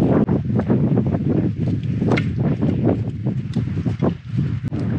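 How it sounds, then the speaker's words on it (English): Wind gusting outdoors at a fireside camp in Exmouth, a fluctuating rushing and buffeting against the microphone with rustling bursts, loud and close, no talking. "Wind's picking up."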